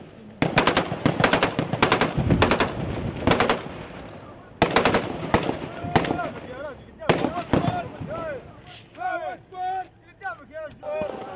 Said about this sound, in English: The opposition have their own snipers trying to pick off Gaddafi's men